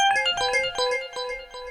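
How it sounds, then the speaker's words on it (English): Glass arp synth patch from the Yoshimi standard patches, played as an arpeggio through QMidiArp: a bright, glassy run of plucked electronic tones in a steady rhythm, with a clean, bell-like attack on each note and no talking. "The second sound is glass arp, which you might know very well from the Yoshimi standard"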